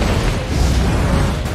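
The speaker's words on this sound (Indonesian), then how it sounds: "ia langsung meledakkan sebuah bom yang telah ia pasang di sebuah mobil" Loud car bomb blast in a film, a sustained broadband roar of explosion and rumbling debris filling the whole moment without any voices.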